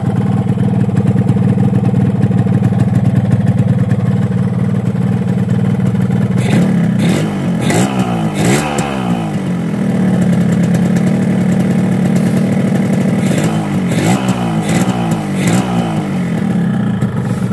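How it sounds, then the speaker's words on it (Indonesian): Kawasaki two-stroke motorcycle engine running cold just after starting, a loud steady close idle with a buzzy drone, brief throttle blips around the middle and again near the end. "ketika mesinnya masih dingin banget men baru nyala suaranya juga adem bersih nggak berisik"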